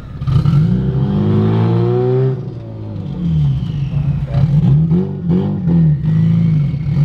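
A 500hp Evo car fitted with a new ACT twin-disk six-puck clutch drives on a road, its engine revving loudly through repeated rising pulls and gear changes, heard close from inside the cabin.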